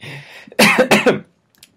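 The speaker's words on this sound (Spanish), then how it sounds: "Disculpen aquí la tos." A person coughs several times in quick succession, loud and close, after a brief breathy lead-in, then falls quiet.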